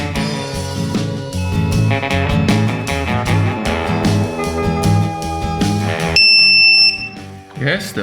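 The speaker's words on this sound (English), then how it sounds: "Yes, the buzzer is beeping." An RC drone receiver's beeper, fitted alongside a FrSky R9Slim+, sounds steady high-pitched electronic beeps in the last couple of seconds, underneath loud music that runs the whole way through.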